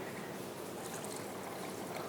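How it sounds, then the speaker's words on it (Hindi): Water pours steadily into a cooking pot of besan halwa with a continuous rushing splash, close and even, with no break over its short length. "अब इसमें हम पानी ऐड कर देंगे"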